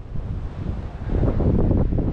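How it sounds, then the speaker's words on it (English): Cold wind blows across an outdoor countryside spot by a hedge, roaring steadily into the microphone and gusting louder in the second half. "Still windy, still cold,"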